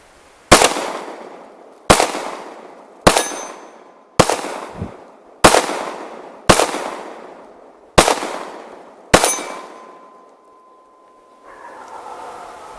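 Eight sharp, loud shots from a Kimber 1911 TLE II pistol in 10mm, fired outdoors on a snowy day at a steady pace about one to one and a half seconds apart, each with a decaying echo, followed by quiet handling noise.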